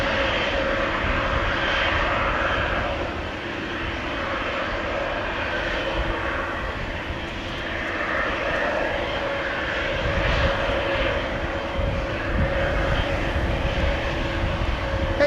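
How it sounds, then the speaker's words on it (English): KLM Boeing 737-800 jet departing an airport on a windy day: a continuous loud engine roar and rumble, steady with slight swells, heard alone without talk. "KLM flight 1919 to Zurich, 737-800."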